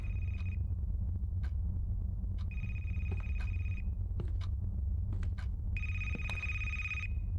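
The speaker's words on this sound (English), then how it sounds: "The phone is ringing, but from where?" A telephone rings inside a horror video game, three electronic ring bursts sounding at steady intervals over a low, constant droning hum, with a few faint clicks between rings.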